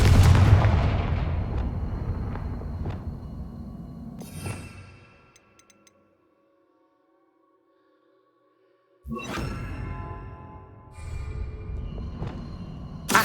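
Fiery blast spell in Hogwarts Legacy, a heavy booming explosion with rumbling decay, then near silence before a second burst of blasts and crackling game effects.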